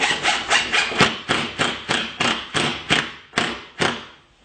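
A 1x2 wood piece is fastened in place with a spacing jig, making about ten rhythmic close-up wooden knocks, each with a short scraping tail, spaced roughly half a second apart and played alone at moderate volume.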